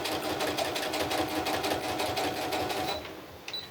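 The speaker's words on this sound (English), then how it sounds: "now I'm going to stitch a straight stitch just right on top" A sewing machine runs a continuous straight stitch across a crumb crazy quilt block, a close, steady, even whir that slows and stops near the end.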